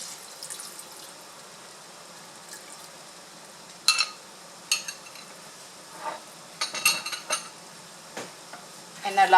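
Sauce goes into a pan of pork and oriental-style spaghetti noodles cooking over low heat. Soft sizzling runs underneath, broken by scattered clinks and scrapes of a utensil stirring against the pan.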